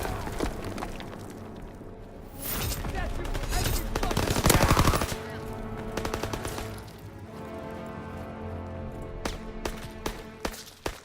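Bursts of automatic and single-shot gunfire in the Call of Duty WW2 headquarters, loud close rattles swelling mid-clip then sparse sharp shots, with shouted voices mixed in.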